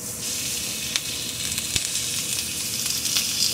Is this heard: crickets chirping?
no